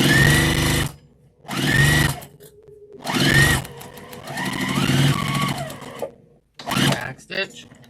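A sewing machine back-stitches fabric for a car trash bag in several short, loud bursts separated by pauses, with a person speaking between the runs.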